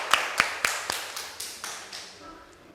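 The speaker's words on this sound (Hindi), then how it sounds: "तालियां हो जाए एक बार जोरदार" A handful of slow, evenly spaced claps ring out, sharp at first, then growing softer and fading over a few seconds, as a small audience at a singing programme applauds.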